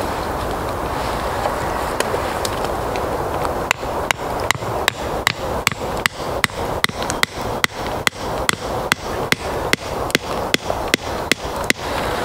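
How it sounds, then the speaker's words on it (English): Steady, evenly spaced hammer blows drive a wooden peg onto the end of a wooden pole, about twenty sharp knocks in a regular rhythm, close and clear over a faint background hiss. "at the base end I'm going to hammer this in"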